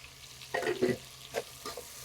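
Crushed turkey berries (sundakkai) dropped into a hot pan for sambar, sizzling and being stirred with a few distinct scraping bursts over a low, steady frying hiss.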